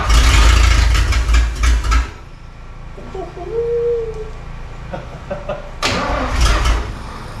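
A 1950 Pontiac Chieftain engine cranks loudly and catches for a moment, dies into a quiet pause with a faint bird-like squeak, then cranks again with a rough, rumbling start close by.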